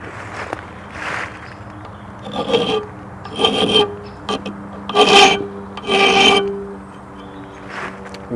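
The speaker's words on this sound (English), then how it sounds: "So if we put it in the vise, we can try filing it for a start" A steel file that has been annealed is drawn across a blade clamped in a vise during tribal knifemaking, producing about six separate rasping strokes, each loud and close.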